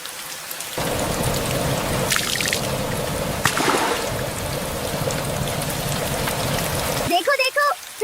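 Heavy monsoon rain pours and water runs and trickles through a village, a steady broadband wash with a few louder splashes and a brief voice near the end.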